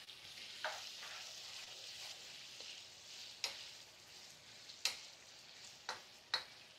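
Chow mein with lime pieces is stirred in a hot pan, a soft continuous sizzle broken by five or six sharp scraping clacks of the utensil at irregular intervals, quiet and close.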